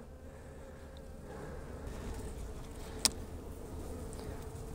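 Honeybees hum from an opened plastic winter hive, a soft, steady buzzing close by that swells slightly partway through, with one sharp click midway.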